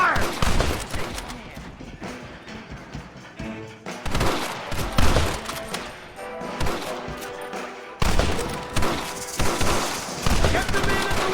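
A Red Dead Redemption shootout erupts in rapid overlapping gunshots, sharp close cracks in uneven clusters with short pauses, loud throughout the stretch.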